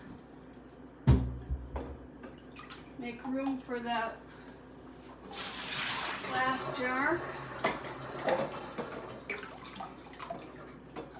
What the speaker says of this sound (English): Okay, that's going to spill over, so I'll have to take some water back out